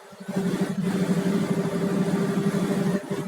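A car rolls along a highway between Kyiv and Kolonshchyna, heard from inside as a steady, fairly loud low engine and road drone with a faint tonal whine, holding even for a few seconds.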